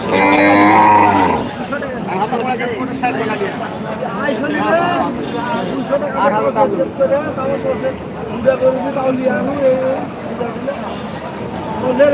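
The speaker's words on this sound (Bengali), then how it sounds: "হাটে এসেছে গরু ওখানে" Cattle moo and low amid a busy crowd at an open-air cattle market, with steady chatter and murmuring voices throughout, the animals close by.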